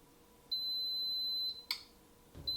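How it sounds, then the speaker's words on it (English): An Instant Pot pressure cooker timer sounds a long, steady electronic beep, followed by a short click and the start of another beep, clear and close in a quiet kitchen. "The timer has gone off."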